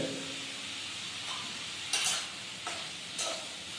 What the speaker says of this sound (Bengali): এখন পেঁয়াজ কষা চলছে।